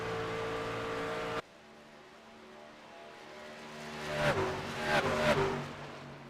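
Race trucks roar past on the back straightaway at Kansas in a racing game: a faint engine drone after a sudden cut, then several louder passes that rise and fall.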